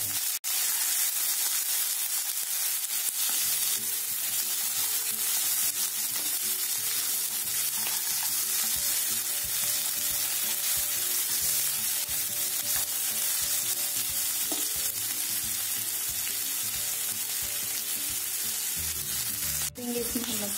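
Green chilies and peas fry in a pan for a fresh turmeric curry, a loud unbroken sizzle running throughout beneath repeated stirring scrapes, with a sharper clatter near the end.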